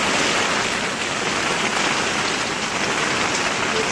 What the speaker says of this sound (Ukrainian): Сьогодні дощ